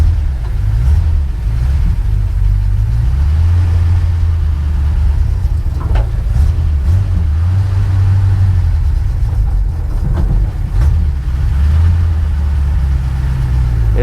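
A 1957 Dodge Power Wagon truck driving, its old engine giving a loud, close, continuous low rumble that rises and falls gently as it moves, with cab rattles and no talking.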